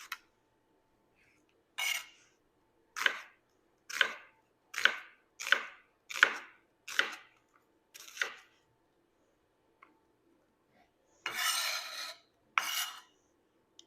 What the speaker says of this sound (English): we're going to cut thin slices this way